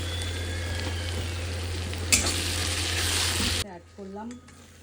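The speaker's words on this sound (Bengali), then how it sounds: "একটু হাই ফ্লেমে লবণ দিয়ে নিয়েছি যেন তাড়াতাড়ি করে পেঁয়াজটা ভাজা হয়ে যায়" Onions fry on a high flame with salt and ginger-garlic paste, giving a steady loud sizzle with a sharp burst of spatter near the middle. The sizzle cuts off abruptly near the end, leaving quieter sounds.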